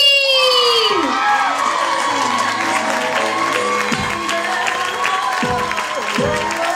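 A pageant audience cheers and applauds as a contestant wins an award, loud sustained clapping mixed with shouts and whoops from the crowd throughout, with voices calling out over it.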